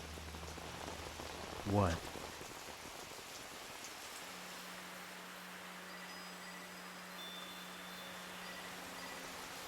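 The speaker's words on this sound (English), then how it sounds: "rain during like night cityscape is always going to be super cool of a look" Rain falling on a sci-fi night cityscape in the video game Xenosaga Episode II, a faint, even hiss running throughout, with a brief spoken word and a short tonal effect early on and a low hum joining later.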